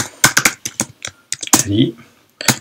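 Someone types a Python command on a computer keyboard, a close, loud burst of rapid keystrokes with short pauses between clusters of taps.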